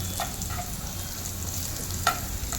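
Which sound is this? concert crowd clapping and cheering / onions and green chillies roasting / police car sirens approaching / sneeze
onions and green chillies roasting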